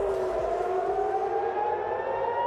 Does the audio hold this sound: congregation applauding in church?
no